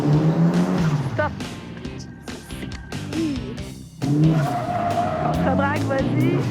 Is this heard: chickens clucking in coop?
no